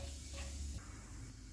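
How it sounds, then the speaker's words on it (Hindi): Cumin seeds fry in hot oil for an egg bhurji, giving a steady close hiss and sizzle across a short moment with no talk over it. "ऑयल गर्म हो गया, इसमें ज़ीरा डालेंगे। इसको 15 सेकेंड तक फ्राई करेंगे।"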